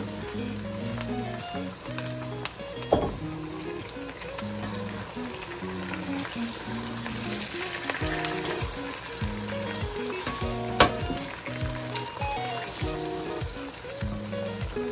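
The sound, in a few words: beef frying in a pot for biryani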